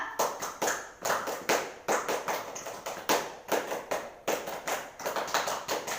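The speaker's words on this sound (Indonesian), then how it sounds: "ayo kita tepuk pramuka dulu terus bareng-bareng" Children in a classroom perform the Indonesian scout clap (tepuk pramuka), clapping in sharp, patterned bursts of several beats separated by brief pauses, close and fairly loud with no talking.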